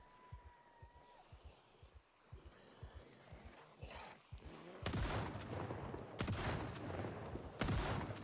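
Gunshots ring out in the zombie survival video game Project Zomboid: a series of thumping hits gives way to several loud, sharp, widely spaced shots near the end.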